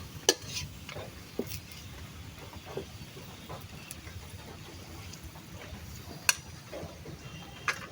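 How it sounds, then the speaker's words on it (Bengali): Dried chillies, onion and garlic fry in oil with a low, steady sizzle, punctuated by occasional sharp clinks of a utensil against the pan. "তেলের ভিতরে দিয়ে দিলাম শুকনো মরিচ, পেঁয়াজ রসুনটা সুন্দর করে তেলে ভাজে নেব"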